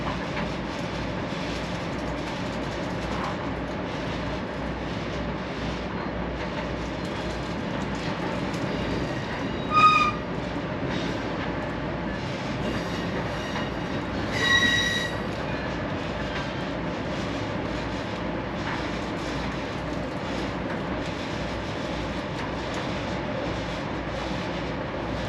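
Steady rumble of the Amtrak Texas Eagle passenger train running on rails, heard from inside with continuous wheel and car noise and two brief squeaks or clanks along the way.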